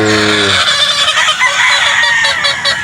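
Gilmore game chickens at a game farm, loud and close, with steady clucking and crowing layered over one another throughout.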